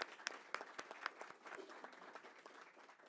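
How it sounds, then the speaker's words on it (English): Scattered claps from a small audience at a school board meeting, honoring student athletes and their coaches; the sound is faint and sparse, with individual claps spread irregularly over a few seconds. "let's give all of our student athletes a round of applause and our coaches"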